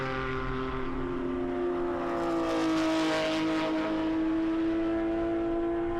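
Jody Miller's number 3 race car driven by Pippa Mann screams past at speed, a loud sustained engine whine with clear harmonic tones that swell and slightly shift pitch, with no voices over it.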